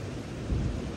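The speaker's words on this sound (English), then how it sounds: "I think it's like a storm that's coming, but the rain is not so bad." Thunderstorm with rain moving in, a low rumbling roll of thunder under a steady wash of rain, heard outdoors at a moderate distance.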